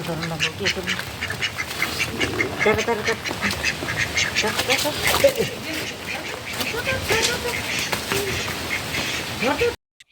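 Native domestic ducks quack repeatedly and close by in a village near a bamboo grove on a rainy day, the calls coming in busy, overlapping bursts over background noise before cutting off abruptly at the end.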